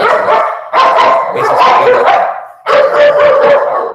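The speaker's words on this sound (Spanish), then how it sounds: "tengo un perro muy feroz" A dog barks loudly and close in three hoarse, drawn-out bursts separated by short gaps, with no talk over it.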